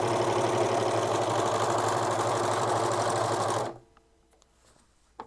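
A sewing machine runs a straight stitch on snow pants in a fast, loud, continuous whirring rattle for several seconds, then stops abruptly, leaving near silence and a small knock at the end.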